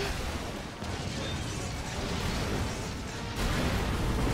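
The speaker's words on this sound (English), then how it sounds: "an explosion happened and I couldn't hear a thing you said" Explosion in the video game Resident Evil 6, a dense, sustained roar of broadband rumble filling the whole clip, swelling again near the end, loud with no talk over it.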